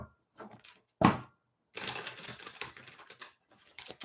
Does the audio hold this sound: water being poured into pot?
no